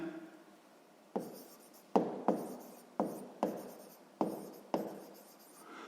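Pen writing on paper during a maths lesson, close and clear, in a series of about eight short scratchy strokes with brief pauses between them, no voices.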